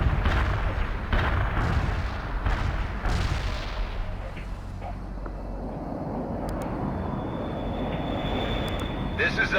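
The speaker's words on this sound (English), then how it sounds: "Artillery barrage turned the target area into dust" An artillery barrage in the strategy game World in Conflict opens with a series of heavy booming impacts, then fades into a low rumbling roar with faint mechanical tones over it.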